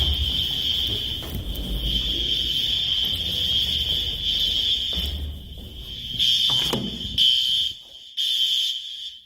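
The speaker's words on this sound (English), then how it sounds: "that fire alarm is broken outside" Broken fire alarm outside a building, a loud steady high-pitched electronic ring sounding continuously with brief cut-outs near the end, over some thumps and room noise.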